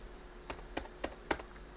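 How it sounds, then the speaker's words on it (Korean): Four crisp, evenly spaced key presses on a computer keyboard, struck while typing text and pressing Enter, sound close but quiet against a faint background hum. "3점 입력하고 엔트키 4번."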